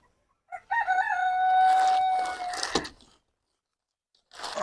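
Rooster crowing in a backyard coop kept with two hens: one long, loud crow up close, then quiet before another burst of crowing begins at the end.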